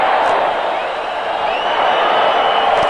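A sellout stadium crowd at a 1980 AFC Wildcard football game, Oilers at Raiders, gives off a loud, steady roar of broadband noise, with a faint cheer rising partway through.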